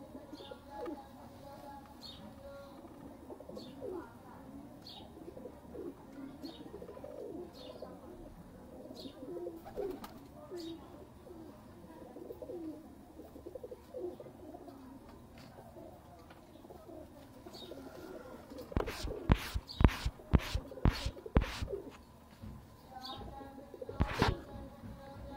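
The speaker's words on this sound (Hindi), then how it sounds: "ये दोस्तों माशाल्लाह पर देखे इन कबूतरों का, क्योंकि आम कबूतरों से पारी मुख्तलिफ है।" Heera lal pigeons coo in repeated soft calls at moderate distance, joined by light chirps, with a burst of louder sharp sounds near the end.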